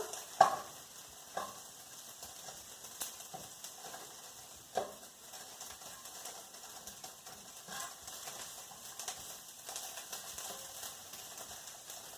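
Onions cook down in a skillet with a quiet, low sizzle, broken by scattered light clicks and scrapes of a utensil moving them around, with no talking.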